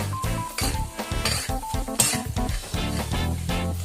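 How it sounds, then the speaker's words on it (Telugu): Chili powder, salt and spices fry and get stirred in a pan for atukula mixture, giving a close, continuous sizzle broken by repeated scraping and clinks of a spoon against the metal. "బాగా ఫ్రై చేయాలి."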